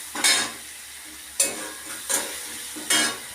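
Garlic frying in a pan, a soft steady sizzle broken by four sharp scraping strokes of a spoon stirring it, all close and clear with no talking.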